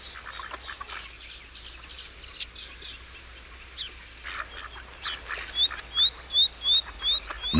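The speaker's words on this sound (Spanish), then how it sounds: "Las aves encuentran buenos refugios y hay abundancia de alimento." Waterbirds at the Villafáfila lagoons in Zamora chirp and call faintly in open wetland, then a duck gives a run of six or seven loud, regular quacks close by near the end.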